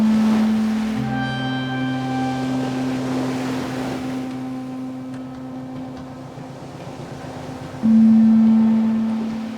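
Slow rolling ambient drone patched on an MDLR modular synthesizer to mimic ocean waves, with steady sustained low tones and a hissing wash that swells and recedes, then a louder low note returning near the end.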